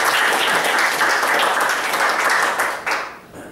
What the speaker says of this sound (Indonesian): Satu tepuk tangan yang luar biasa untuk.